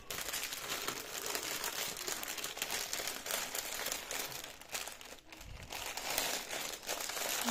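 Packaging paper crinkles and rustles steadily during an unboxing of craft supplies, a faint, close, continuous crackling with no talking.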